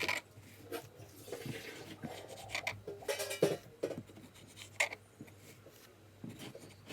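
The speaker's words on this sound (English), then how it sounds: "be careful when you're cutting to not destroy the bread when cutting. and just cut like so." Knife sawing through stacked slices of sandwich bread, soft close rasping and scraping strokes in uneven bursts with light taps against the board, no talk.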